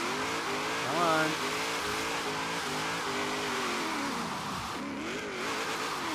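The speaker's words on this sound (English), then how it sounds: "I don't think third gear is going to let us keep this rolling burnout going" A Holden Torana A9X engine drones at high revs through a rolling burnout in Forza Horizon 3, with pitch wavering as it shifts and a voice talking over it.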